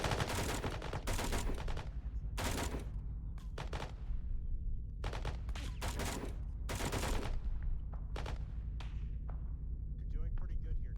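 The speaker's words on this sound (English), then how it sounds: "I'm hearing gunshots from more west" Bursts of gunfire during military position defense training with machine guns, repeated sharp volleys in irregular clusters, some rapid and overlapping, fairly close and loud.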